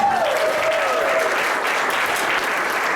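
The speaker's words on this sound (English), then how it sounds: "Can we give the DJ a round of applause?" Audience at a business presentation applauds the DJ, a full, even roar of many hands clapping close and loud from start to finish, with a brief voice at the very beginning.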